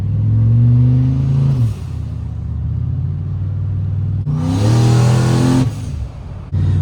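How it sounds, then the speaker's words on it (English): Turbocharged Chevrolet Silverado sleeper truck engine revving hard twice, loud and close, with a lower idle rumble in between and sharp rising bursts of acceleration. "Happy turbo truck."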